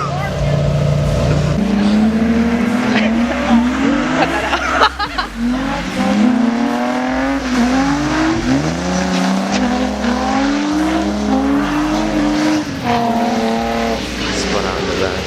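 A car spinning out with squealing tires during a rainy street drift in a game, a loud droning engine rising and falling as the tires squeal. Short exclamations are heard over it.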